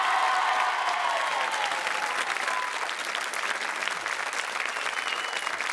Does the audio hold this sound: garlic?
no